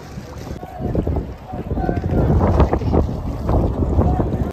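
A boat moving on water with wind during the Lalbaugcha Raja immersion in 2025: rumbling, buffeting wind noise and a low engine-like roar over the water, loud and close, with voices talking underneath.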